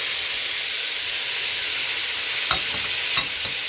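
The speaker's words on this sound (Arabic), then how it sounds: "وهنديها برضو تشويحتين كده جمال" Grated onion, carrot and minced garlic sauté in a hot pan with a steady, close sizzling hiss, broken by two brief scraping stirs near the end.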